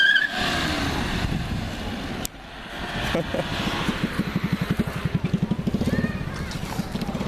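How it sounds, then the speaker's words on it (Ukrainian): Audi car engine running after starting, a low idle whose rhythmic pulsing grows stronger in the second half, with people talking nearby and a sharp click partway through. "Завелась ваша аудюшка"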